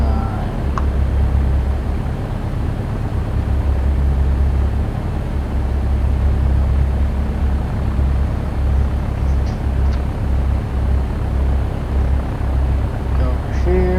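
Simulated aircraft engine in the X-Plane 11 flight game around takeoff during touch-and-go practice, a loud, steady low drone with a faint pulsing throb that holds unchanged throughout.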